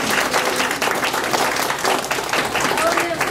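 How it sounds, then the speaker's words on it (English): An audience claps in steady, dense applause at the close of a talk, loud and close, with no pauses across the short stretch. "So let's give her another round of applause."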